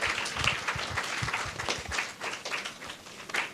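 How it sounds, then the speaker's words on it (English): An audience applauds a primary school spelling bee contestant in St. Lucia, with steady clapping filling the room at moderate volume. It has no talk over it. "Round of applause for Destiny."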